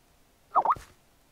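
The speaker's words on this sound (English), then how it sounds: "That's Jason probably messaging me on Skype" A Skype message notification gives a single short two-note pop, faint and brief against a quiet background.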